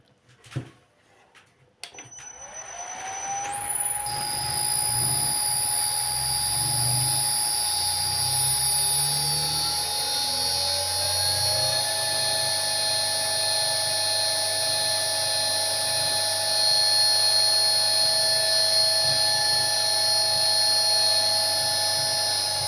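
A three-phase 380-volt electric motor, connected to 220 volts and run at 50 Hz, spins up after a click and settles into a steady, loud hum with a high-pitched whine that continues throughout.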